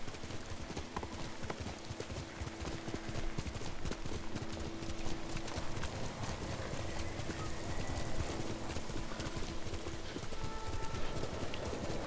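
Rapid, rhythmic hoofbeats of a galloping horse in the video game Ghost of Tsushima keep a steady pace throughout, over a wash of ambient background noise, with no voices.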